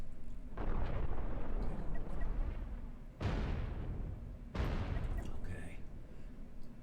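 Cannon shells in the space game Cosmoteer fire and strike a ship as deep, booming blasts, with three heavy impacts over a few seconds, each trailing into a rumbling roar.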